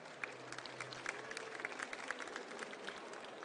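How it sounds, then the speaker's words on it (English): A conference audience at Web Summit Lisbon gives a round of applause, sparse and somewhat distant clapping with individual claps standing out over a low room murmur. "round of applause for you being here today"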